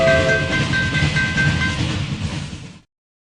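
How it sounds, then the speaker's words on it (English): A train rumbles past with a steady rolling roar and a drawn-out horn tone sounding over it, loud and close, before cutting off abruptly into silence. "Train."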